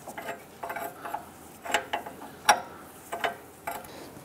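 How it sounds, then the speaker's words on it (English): A 22 mm wrench tightens the upper ball joint nut on a 2002-2008 Dodge Ram 1500 front suspension, giving close, irregular metallic clicks and clanks in short bursts. "I'm gonna use our 22 millimeter wrench and go ahead and tighten down the upper ball joint"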